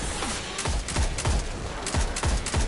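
Weapon fire in the video game Destiny 2 cracks out in rapid bursts of sharp, loud shots while enemies are being gunned down, with each report falling away in a booming tail.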